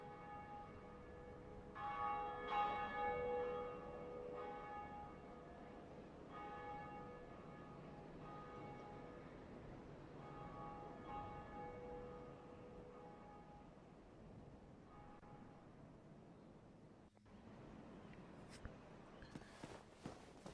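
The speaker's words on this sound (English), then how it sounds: "that will ring the bell" The Bell of Awakening tolls in the video game Dark Souls, a deep church bell with long ringing overtones that strikes repeatedly and slowly fades, followed by faint footsteps and shuffling near the end.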